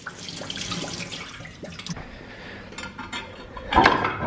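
Water running through a line or tap to flush out ice in a cold kitchen, a steady wash of splashing and trickling with clinks and knocks, rising to a louder gush near the end.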